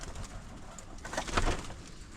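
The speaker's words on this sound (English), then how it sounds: "These are our birds." Farm birds cooing outdoors in a yard: a low murmuring coo that swells midway, with some faint rustling behind it, heard continuously and at moderate loudness.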